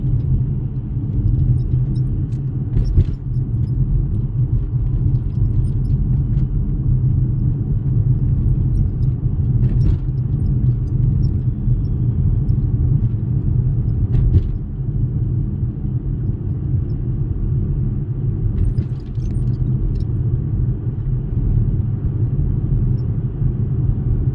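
A car is driven slowly along a roadside lane with occasional potholes, its steady low rumble filling the cabin throughout, broken now and then by faint knocks and rattles.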